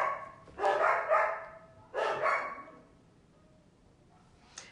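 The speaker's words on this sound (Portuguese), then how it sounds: "Deve ser algum cachorro passando aqui na frente." A dog barks somewhere out front, two short bursts of a few barks each, moderately distant, followed by quiet.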